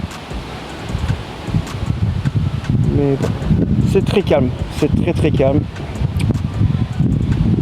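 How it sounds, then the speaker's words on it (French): A cold north wind rises beside a canal, a steady rushing buffet of air across the microphone while someone talks in French over it. "Le vent est en train de monter par contre, on a un vent de nord, un peu froid."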